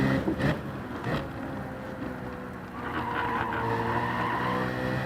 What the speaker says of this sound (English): Ooh, yeah! Sliding.